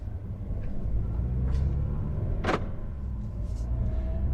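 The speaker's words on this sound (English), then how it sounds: "Okay, driving the A-Class." 2020 Mercedes-Benz A220 4Matic on the road, a steady low rumble of engine and tyres inside the cabin, with a couple of faint knocks and a brief louder thump partway through.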